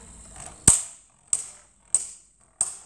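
Beyblade spinning tops clash in a battle arena, four sharp metallic impacts spaced about half a second apart, each with a brief bright ringing decay, close and fairly loud.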